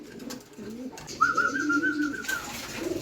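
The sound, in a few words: pigeons cooing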